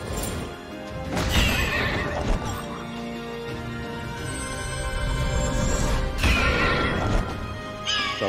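Ghostly horse whinnying in the Child of Light video game, two loud neighs rising near 1.2 and 6.2 seconds over a steady bed of game music, no talk.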